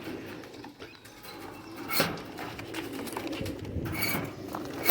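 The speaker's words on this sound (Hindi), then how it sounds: "माशाल्लाह, बहुत ही कोई वीआईपी दोस्तों कबूतर हैं ये।" Teddy breed pigeons coo softly nearby, low throaty calls repeating over a rustling background with faint patter, and no one speaks.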